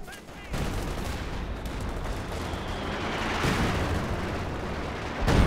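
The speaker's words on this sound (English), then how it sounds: "Katyusha line up a barrage of rockets" A Katyusha rocket barrage in the video game Company of Heroes 2, a dense, continuous roar of rocket fire and blasts that swells slightly toward the end, with a commentator's voice faintly beneath.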